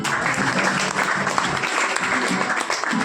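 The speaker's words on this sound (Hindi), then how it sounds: "तालियां बजाओ थोड़ा" An audience of students at a Teacher's Day coaching-class celebration claps steadily for a few seconds, a dense, lively burst of applause heard on its own.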